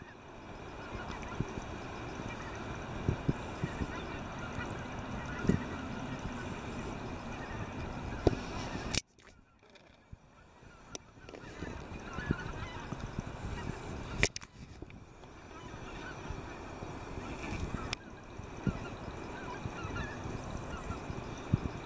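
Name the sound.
migrating birds calling overhead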